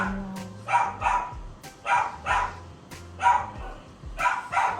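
Several dogs bark in repeated short bursts, close by and fairly loud, with yips mixed in against a low indoor hum.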